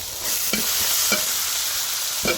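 Garlic and ginger paste frying for a Bangladeshi prawn bhuna, a steady hissing sizzle close by with three distinct scraping stirs spread across it and no voices.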